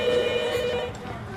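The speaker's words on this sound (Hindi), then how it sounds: "जाकर फोन उठाओ बेटा" A telephone rings with a steady electronic tone, fairly close, then cuts off partway through, leaving quiet room noise.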